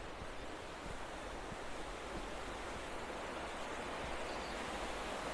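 Steady broadband rush of a river flowing beneath trees along a riverside footpath, continuous and even with no voices.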